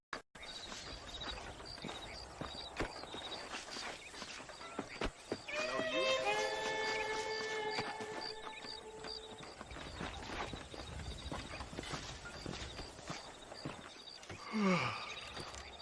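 Horse hooves clip-clop at a steady riding gait in the Western video game Red Dead Redemption, moderately close, with a brief melodic tone and some ambient game sounds mixed in.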